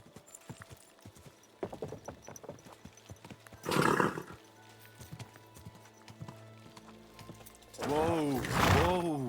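Irregular video game horse hoof clip-clops sound up close in Kingdom Come: Deliverance II, with a loud horse snort midway and a drawn-out whinny at the end.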